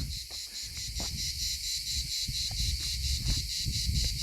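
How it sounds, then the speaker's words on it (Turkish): Dense, continuous cricket chirping pulses steadily throughout on a quiet island, close and fairly loud, with a few soft thuds underneath and no talking. "Cırcır böcekleri."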